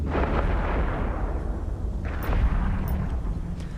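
Sustained heavy booming barrage of spaceship weapons fire from an Apocalypse ship in EVE Echoes, a dense continuous roar with a few sharp high zaps near the end, loud and unbroken.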